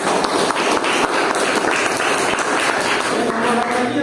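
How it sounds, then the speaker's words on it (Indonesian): An audience applauds at a teacher-training session, dense steady clapping filling the whole stretch at an even level with no break. "Mungkin kita beri aplaus dulu."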